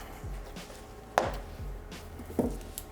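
Frozen butter being grated on a cheese grater for biscuit dough, heard as a few scraping strokes with sharper rasping bursts, close and fairly quiet, with no talking.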